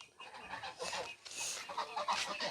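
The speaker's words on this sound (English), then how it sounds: "This is the chicken." Chickens cluck in a backyard at home, a busy run of short, fairly close calls overlapping one another, with a child and adult nearby and a little background noise.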